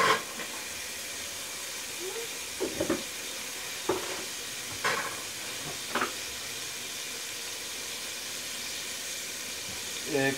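Keema rice spices and red chilli frying in a pot, a steady soft sizzle and hiss with occasional scrapes and clinks of stirring, fairly quiet and close, with a voice faintly present in the background.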